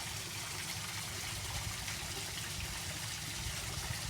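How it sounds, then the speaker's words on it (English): Water trickles and splashes steadily over a small decorative waterfall, an even, continuous flow with no talking. "And there's the waterfall."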